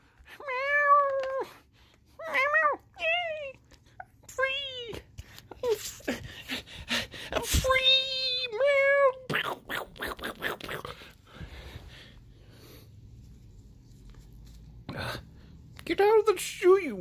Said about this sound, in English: Get out of the shoe, you cat.